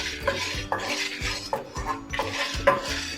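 Whole spices (coriander, black pepper, cumin and fenugreek) dry-roasting in a pan for a Chettinad-style chicken ghee roast, with repeated close scraping and clinking of a metal spoon against the pan in an uneven stirring rhythm.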